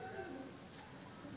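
Large low-flying pigeons of the kaal noky breed cooing softly, a brief faint murmur of coos with faint background noise.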